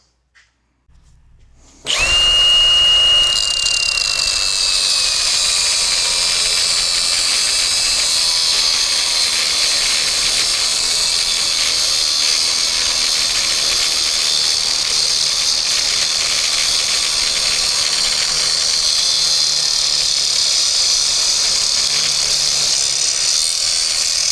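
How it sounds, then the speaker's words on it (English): Lathe cutting a part in a workshop building a roadster: after a brief quiet start the machine spins up into a loud, steady whining cut that holds without a break, with a high tone sliding down early on. "I'm going to bring you guys over to the lathe and go from there."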